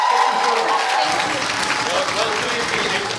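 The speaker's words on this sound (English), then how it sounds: "Ladies and gentlemen, a round of applause to Aissatou Aliou." Audience applause at a kids' talent show elimination round, a dense wash of clapping that stays loud and steady for about three seconds with a faint voice over it.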